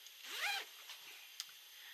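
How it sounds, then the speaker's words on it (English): A zipper pulled in one quick, rasping sweep, then a faint click and soft handling noises in an otherwise quiet room. "that's the wrong zipper"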